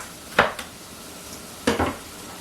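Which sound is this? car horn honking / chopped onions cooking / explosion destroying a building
chopped onions cooking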